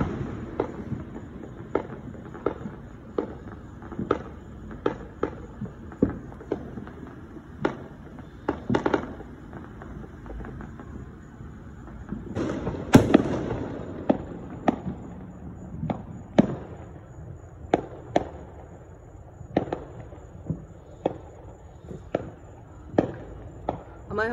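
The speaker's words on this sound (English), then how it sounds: "We're having fireworks every now and then because it's after 8:30." Fourth of July fireworks pop and bang repeatedly at irregular intervals, mostly distant with a few louder, nearer blasts and crackling in the middle.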